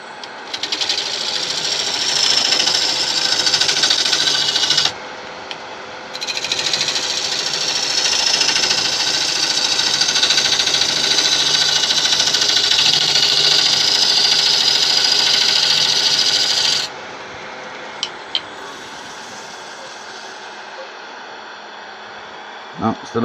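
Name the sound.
wood lathe carbide tool cutting a resin river bowl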